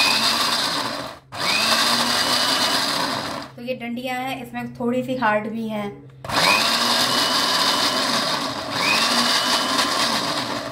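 An electric mixer grinder whirs loudly, grinding hard stalks for a gravy made without tomato, onion or garlic. It cuts out for a few seconds while someone speaks, then roars back in steady bursts.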